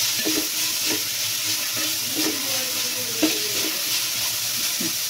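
Onions with a pinch of salt sauté in a pan for soybean masala, giving a close, continuous sizzle with repeated scraping strokes of a stirring spoon.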